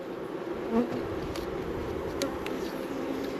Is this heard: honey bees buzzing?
yes